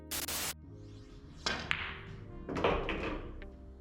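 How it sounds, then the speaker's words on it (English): Pool cue striking the cue ball on a draw shot: a sharp close tap, then a few duller clacks and rolling knocks of balls across the table, fairly quiet. "Set up a basic draw shot, just enough to pull the cue ball back cleanly."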